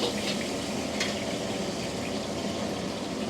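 Chili peppers fry in a desi Chinese restaurant kitchen, producing a loud, steady bubbling sizzle close by, with a few sharper spits breaking through.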